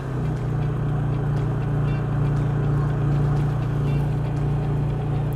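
A Honda EU30is generator engine hums with a steady, fairly loud tone as it comes up to speed, running continuously without pauses and with no talking.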